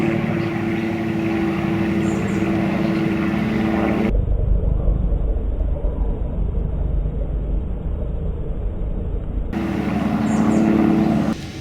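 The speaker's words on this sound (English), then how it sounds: "Some aircraft thing is going on again." An aircraft passes over a backyard, its loud, steady low rumble swelling in abruptly for several seconds and then cutting back to the quieter yard ambience, with no talking.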